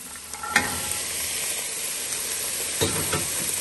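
Onions frying in a pan for a pea and rice dish, with a steady broad sizzle throughout and a few louder stirring scrapes near the start and again later.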